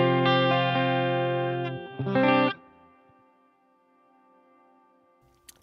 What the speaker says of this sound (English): Let me turn up just a little bit of reverb. It's more of a plate style reverb.